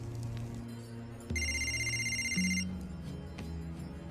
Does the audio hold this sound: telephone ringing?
yes